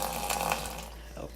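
Faucet water running briefly into a container, a soft splashy hiss that fades out within about a second.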